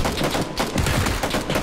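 Rapid video game gunfire in dense, continuous bursts, loud and close, with overlapping shots forming a constant rattling fusillade and no voices.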